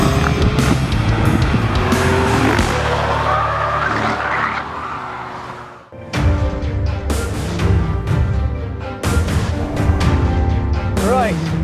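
Nissan GT-R at full effort on a race track, its engine snarling loud and close with repeated tire squeals and skidding, a brief dip near the middle before the engine surges again.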